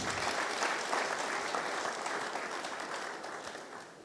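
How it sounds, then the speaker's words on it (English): A conference audience applauds, steady clapping that slowly fades toward the end. "Please, another round of applause for him."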